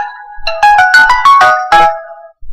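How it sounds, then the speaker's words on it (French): Alarm clock ringtone used for morning wake-up, a bright electronic melody of rapid repeated chiming notes lasting about two seconds, loud and close, with no talking over it. "Et la sonnerie de mon réveil, alors pour me réveiller le matin"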